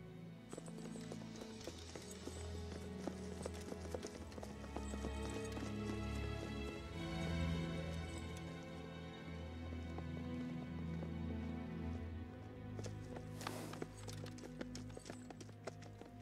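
Horses' hooves clip-clop steadily in a dense, faint mix with other rhythmic clatter and background ambience, a continuous patter of steps without clear speech.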